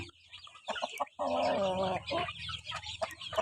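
Chickens clucking up close, including a young laying hen, with a loud sustained squawking burst in the middle and scattered short clucks around it, no talking.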